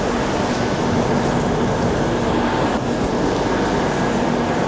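Steady, loud rumble and roar inside a moving Madrid metro train, a continuous rail noise with no pauses and no voices.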